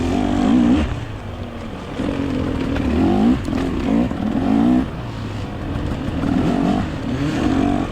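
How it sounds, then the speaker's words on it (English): A dirt bike engine revs during a muddy mountain hare scramble race, with repeated throttle blips and rising surges, loud and close, interspersed with mechanical clatter and no talking. "someone is revving behind me"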